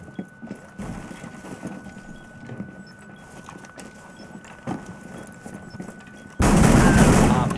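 Shotgun firing in Rainbow Six Siege, mostly faint scattered shots and footsteps under quiet game ambience, then a sudden loud blast near the end that swells into a sustained burst.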